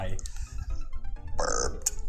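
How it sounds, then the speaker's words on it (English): A burp lets out from a player during a Mario Maker 2 gaming session, short and close, mixed in with game sounds and casual talk. "burped."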